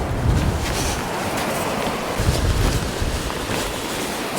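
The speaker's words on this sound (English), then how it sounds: "despite the 30-mile-an-hour southerly wind" Strong southerly wind of about 30 mph buffets a beach during sea fishing for cod, a steady, loud, broadband roar with gusty swells and no talk.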